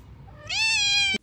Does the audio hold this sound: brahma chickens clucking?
no